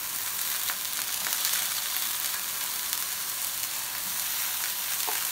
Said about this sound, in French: Donc on va griller tous ces petits légumes individuellement.